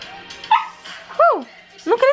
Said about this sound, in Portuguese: Esse cachorro cresceu demais, Jesus.